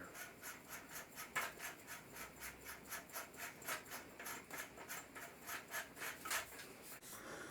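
Steel muzzle brake being screwed back onto the threaded barrel of a suppressed AK-74, a steady run of close, rhythmic metallic rubbing and rasping scrapes as the threads turn, with no talk.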